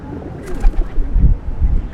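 Pigeons cooing in a London city square, a few low soft coos close to the microphone, alone without talk.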